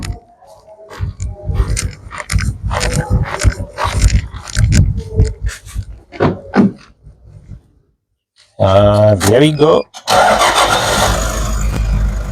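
Toyota Hiace van engine starting, a short cranking whir that catches into a steady loud idle after a stretch of talking and rustling near the microphone; someone speaks briefly.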